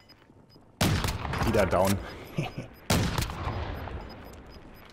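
A Swiss weapon in a video game fires two loud, sharp gunshot bursts a couple of seconds apart, each ringing out with a long decaying tail, as a player speaks briefly between them.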